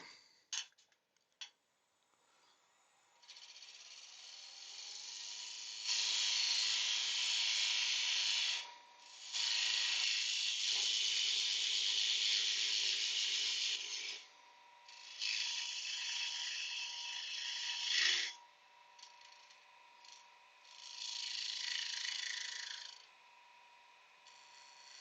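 Tool cutting wood on a wood lathe while turning a bowl, heard as long, loud, close stretches of hissing, scraping cut, with a few brief clicks and pauses between passes.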